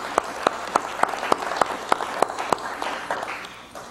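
Audience applause in a talk setting, with one loud nearby clapper striking a steady rhythmic beat over a softer spread of clapping that thins out toward the end.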